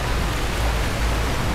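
Strong sea waves surge on a Boracay beach as a steady, dense roar of surf, loud and close, rumbling continuously with no talk over it.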